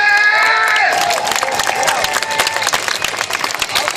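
Large outdoor crowd at an air show applauding, cheering and whooping for two aircraft crews, a loud broad wash of clapping with shouts and a brief tonal sound at the start, sustained throughout.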